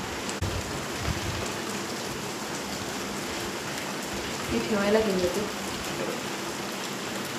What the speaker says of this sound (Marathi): पाऊस खूप जास्त चालू आहे.